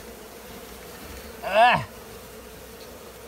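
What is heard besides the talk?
bees buzzing in an attic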